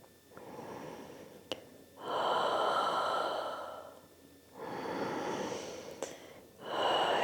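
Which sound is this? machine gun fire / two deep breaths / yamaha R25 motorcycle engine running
two deep breaths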